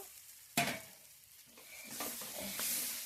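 Fried potatoes drop into a pan of cooked-down spice mix with a sharp hiss, then a spoon stirs them as the oil keeps sizzling and crackling at close range.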